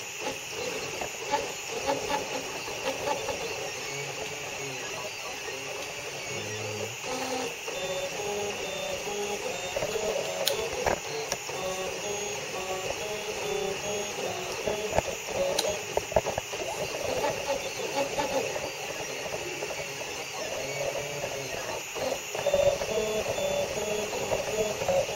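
A 3D printer fitted with a TF3D print head runs a print job, giving a faint continuous mechanical hum with soft ticking, clicking and stepper motor movements throughout.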